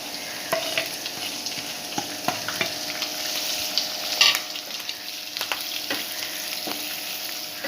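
Shallots and green chillies sizzling and frying in a pan, a steady crackle with scattered louder pops and stirring clinks, close and continuous with no talk.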